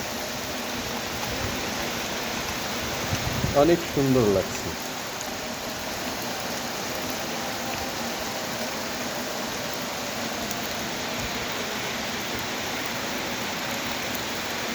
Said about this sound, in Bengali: অনেক বৃষ্টি অনেক বৃষ্টি যেটাকে আমরা ঝুম বৃষ্টি বলে থাকি